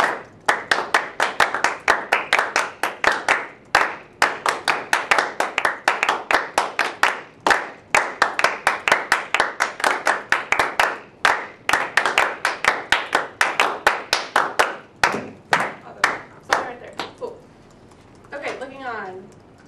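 A group claps together in steady rhythmic beats at a music rehearsal, sharp hand claps repeating evenly through most of the stretch, with a brief pause near the end and faint voices at the close.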